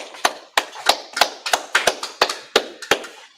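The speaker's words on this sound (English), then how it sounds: "Clap it up." Group hand clapping at a gathering, about ten sharp claps in a steady, slightly uneven rhythm, close and fairly loud with no talk over them.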